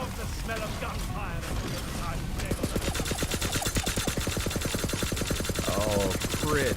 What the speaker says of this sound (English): I love the smell of gunfire.